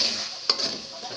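A pan of scrambled egg with water spinach is stirred in brief, close scrapes and light taps over a soft, steady sizzle.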